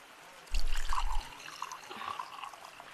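Water trickling from a pond in the virtual reality game Gorilla Tag, a quiet soft burble that starts with a short splashy surge and then thins into a faint gentle trickle.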